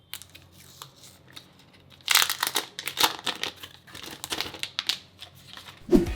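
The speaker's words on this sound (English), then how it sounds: "give me a second to enjoy this unwrapping ASMR" Plastic film crinkles and crumples as a TECNO Camon 19 Pro Mondrian Edition smartphone is unwrapped from its box, close and crisp with bursts of rustling after a quiet start, no talking.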